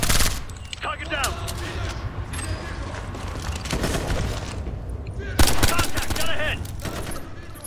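Gunfire bursts crackle through a Ghost Recon Future Soldier firefight, loud shots in quick clusters over dense battle noise, with a voice talking in between.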